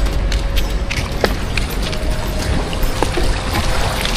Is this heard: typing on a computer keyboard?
no